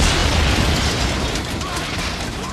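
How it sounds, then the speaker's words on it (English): Loud, sustained roaring blast from an explosion in the 1994 film The Crow, a dense wall of noise filling the whole moment without letup and no talking over it. "Explosion!"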